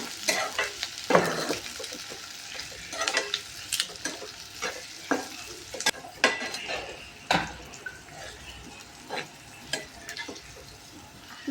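Onions stirred and frying in oil in a pan for dal kanda, a steady close sizzle broken by repeated scraping strokes of a spoon against the pan, with no talking.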